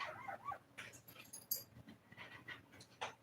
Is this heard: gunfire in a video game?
no